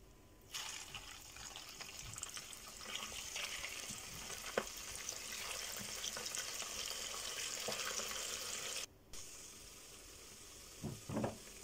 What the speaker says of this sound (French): avant de faire frire dans mon huile